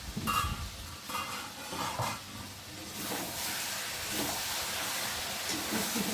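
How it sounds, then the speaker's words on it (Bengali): Chicken for biryani is stirred in a covered pot as it browns in its released oil, giving a steady close sizzle and hiss with soft scraping and clatter from the spoon, and no talk. "আর এখন আমি একটু নেড়ে দেবো।"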